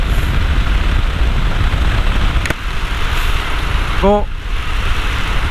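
A Royal Enfield Himalayan motorcycle rides along a road in the dark, giving a steady loud roar of engine and wind rush, with a brief voice cutting in near the end.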